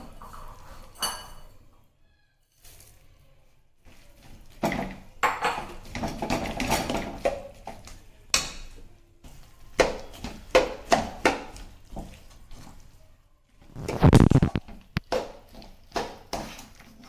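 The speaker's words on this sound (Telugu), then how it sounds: "ఇలా అన్ని సీడ్స్కి పాకం పట్టే విధంగా కలుపుకోవాలి" Seeds are stirred into hot sugar syrup in a pan for a healthy energy bar, giving a close, repeated run of spoon scrapes and metallic knocks, irregular at first then quicker, with one heavy clatter near the end.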